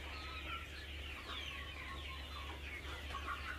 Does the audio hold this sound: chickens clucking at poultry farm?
yes